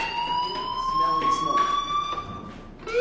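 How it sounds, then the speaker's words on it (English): A fire alarm in the Life is Strange video game sounds as a steady, rising electronic tone that holds for about three seconds with a voice talking underneath and a brief break near the end. "do you hear that fire alarm? That means you should be outside."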